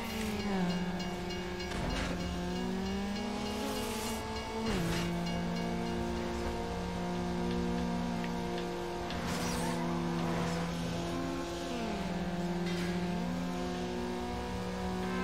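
Game engine audio of a Mazda Miata drag racing in Need for Speed Underground: a sustained, revving car engine climbs through the gears, with pitch dropping at each shift, alongside competing car engines and no talk.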